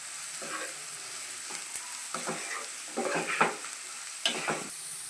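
Turmeric and masala frying in a pan for a sea fish curry, with steady soft sizzling and repeated scraping strokes of a spoon stirring, growing busier toward the end; no one talks.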